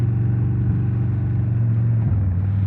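A tuned Indian Chief motorcycle with a 2-in-1 exhaust idles and revs close up, a steady deep rumble that swells slightly and holds throughout, no voices.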